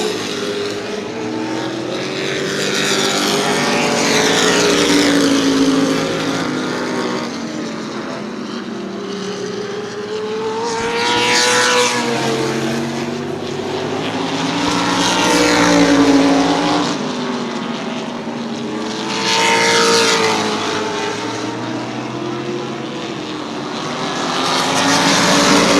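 Modified race cars circling New Smyrna Speedway during a long green-flag run, engines roaring past in repeated swelling waves that rise and fade every few seconds, loud and continuous with no talk.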